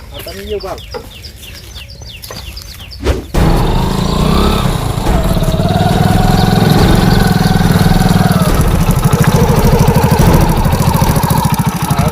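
A rooster clucks and calls near the start, then a motorcycle engine starts and idles with a steady, throbbing rumble close by.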